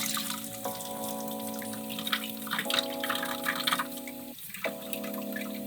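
Water runs steadily through a rinsed pig intestine sausage casing, a continuous close trickle with a resonant hollow tone that shifts pitch a few times and briefly cuts out before resuming.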